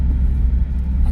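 Honda Civic Type R FL5 engine on a quick pull on a wet road as rain begins, a loud, steady low rumble heard up close with no talking.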